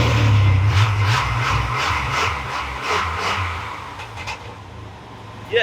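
A 4.3 liter V6 engine, running well, idles and revs with a strong low rumble at first, then a series of rhythmic throttle pulses and a settling hum, close and fairly loud.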